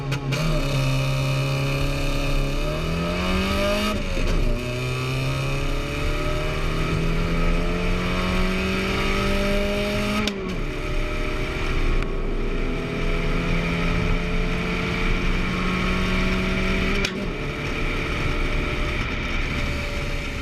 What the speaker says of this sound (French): Je vais aller essayer la voiture quand même vite fait